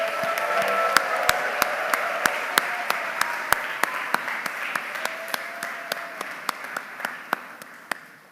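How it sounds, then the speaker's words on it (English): A closing round of applause at a naturalization ceremony honoring new citizens, a dense, steady wash of clapping, with one sharp, evenly spaced click repeating over it throughout, fading slightly toward the end. "just one final round of applause for our newest citizens, and congratulations."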